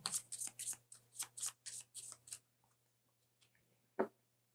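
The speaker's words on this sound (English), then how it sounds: "And then shuffle." Cards for the First Rat board game are riffled and bridged in a quick run of about eight close, crisp flutters, then go quiet apart from a single tap at the end.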